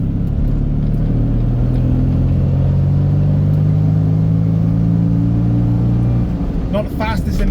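A classic Fiat 500F with its 499cc engine drives along, producing a steady low engine drone and rumble that holds evenly before fading near the end, when brief clatter appears.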